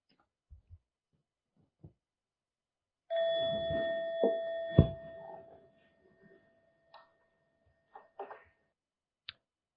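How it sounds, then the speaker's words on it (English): A single bell is struck once in a winter group discussion session and rings out with a sustained, slowly fading tone lasting a couple of seconds, with a few faint clicks and knocks scattered before and after. "At the end of that minute, I'm going to ring the bell"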